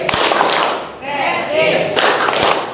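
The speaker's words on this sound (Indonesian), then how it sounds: "Sama-sama kita tepuk semangat sekali lagi biar kita masih semangat belajar." A class of students performs a spirit clap in an Indonesian lesson, with bursts of sharp clapping and thumps at the start and end around a brief softer stretch with voices, all loud and close.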